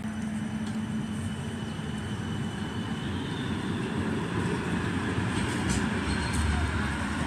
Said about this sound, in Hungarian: Megjött egy villamos.